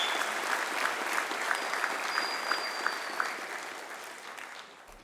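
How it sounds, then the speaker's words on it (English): A crowd at a high school softball graduation claps in steady applause with a faint whistle and rhythmic accents, the sound gradually fading toward the end. "Big round of applause."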